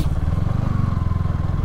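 Motorcycle engine idling or running close by, a steady low throbbing rumble with rhythmic pulses that holds throughout without talk.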